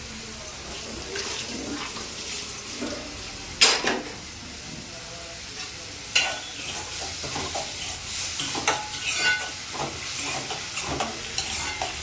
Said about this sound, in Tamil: தக்காளி கொஞ்சம் நல்லா வதங்கணும் வதங்கினாதான் அதுக்கப்புறமா தக்காளி நல்லா வதங்கினாதான் மசாலா ஐட்டம்லாம் சேர்த்து